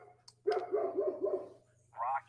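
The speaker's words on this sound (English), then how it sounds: "I just don't know what she's barking at." A pet dog named Sadie barks indoors in a quick run of four or five sharp, close barks, followed by a brief higher yelp, with a steady low hum underneath.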